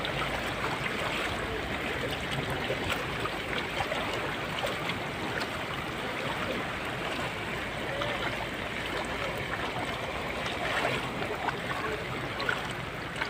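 Loud, steady rush of turbulent floodwater in a swelling river carrying lots of wood, a broad continuous roar with no pauses, close by, in Barangay Lizada, Toril, Davao City.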